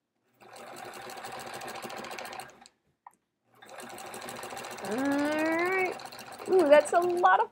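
Sewing machine stitching as it quilts The Splendid Sampler quilt, running in a steady rapid hum with a short pause, close up, while someone talks over the later stretch.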